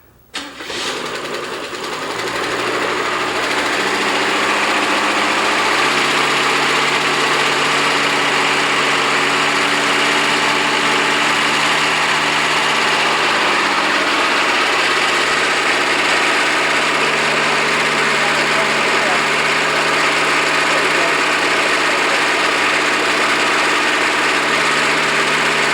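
An engine cranks and catches, then settles into a loud, steady running roar that continues unbroken.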